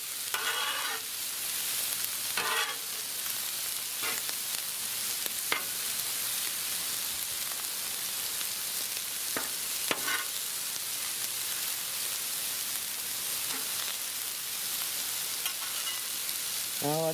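Chicken sausage and peppers sizzle steadily on a Blackstone griddle, a continuous close frying hiss broken by occasional scrapes and stirs of a spatula.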